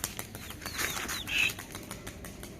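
A Madrasi pigeon released into flight, a brief close burst of wing flapping over roughly two seconds with no talk.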